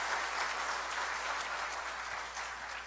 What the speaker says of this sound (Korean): 여러분께 박수 한번 보내주세요